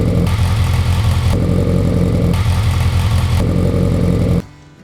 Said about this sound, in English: here's a quick comparison showing the stock idle to the Supertrapp idle.